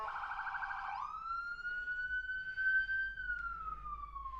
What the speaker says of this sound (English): There's our obligatory siren. Yay! What is it? What is it? What is it? It's an ambulance.